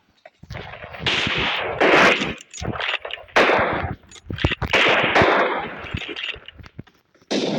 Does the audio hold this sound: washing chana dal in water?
no